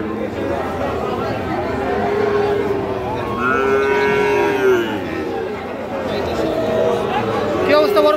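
Calves and cattle at a livestock market in Raniganj, including Friesian and crossbred bull calves, low drawn-out moos rising over a busy crowd of chattering people close by.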